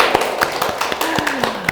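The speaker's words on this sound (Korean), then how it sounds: "저희 박수로 한번 시작하시죠" Church congregation applauding to open a Bible study session, a run of sharp, evenly spaced claps, close and fairly loud, with a faint voice underneath.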